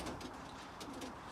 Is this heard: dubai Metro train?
no